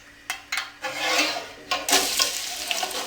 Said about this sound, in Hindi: कुकिंग ऑयल अब गर्म हो गया है। अब इसमें हम प्याज डाल देंगे।